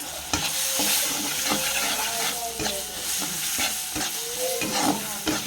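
Tomato with turmeric, chili powder, cumin powder and salt frying in a pan for vegetable khichuri, a dense close sizzle broken by repeated scraping and knocking of a spoon stirring, with no talking.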